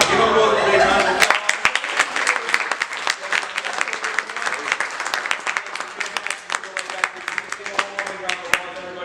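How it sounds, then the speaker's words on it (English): Loud, sustained applause from a live audience at an adult-oriented magic show, dense clapping filling the whole stretch with a few louder individual claps standing out, after a brief voice at the very start. "Give them both a big round of applause."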